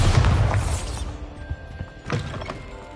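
Bombarda blast spell in the Hogwarts Legacy video game, a heavy booming explosion with crumbling debris that fades within a second, followed by a couple of lighter thuds.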